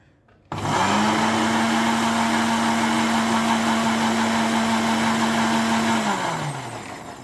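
A blender whirs to life with a sudden start while grinding sesame for tahini, holding a steady high-pitched motor drone for several seconds before winding down.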